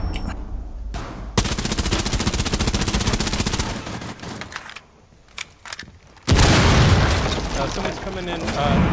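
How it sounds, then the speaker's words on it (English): Grenade blasts and heavy gunfire in Rainbow Six Siege, a TDM Secure Area match on the House map: loud sustained booming bursts, a quieter gap, then another large explosive burst near the end, with players talking over it. "Oh, fuck, grenade"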